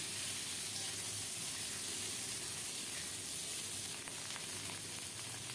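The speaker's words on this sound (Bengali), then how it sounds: "এই তেলে বেগুনগুলো ভেজে নেব।" Eggplant fries in oil with a steady, even sizzle and no other sounds. The frying is close but quiet and continues without change.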